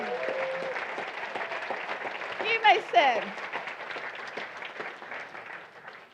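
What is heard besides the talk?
audience round of applause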